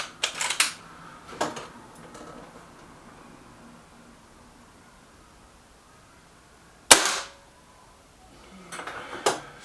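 A Beeman 1357 air pistol fires at a target: a single sharp, close crack stands out amid quiet stretches, with a few lighter clicks and handling knocks before and after it.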